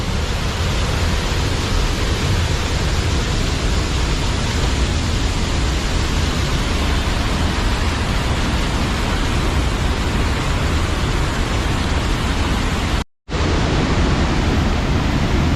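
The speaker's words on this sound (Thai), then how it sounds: "ถึงความแรงของน้ำตกที่ตกลงมานะฮะ" Haew Suwat waterfall in Khao Yai roars with a strong flow, its water dropping about five to six metres and throwing up spray, producing a loud, unbroken rushing wash broken only by a brief dropout near the end.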